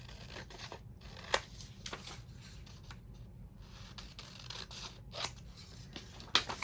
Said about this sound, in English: I don't normally cut with scissors like this